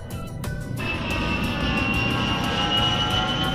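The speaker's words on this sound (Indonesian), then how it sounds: "pesawat." Steady, loud drone of a fixed-wing aircraft passing overhead, a broad continuous engine roar with a high whine that builds after a short opening and holds throughout, with no voices.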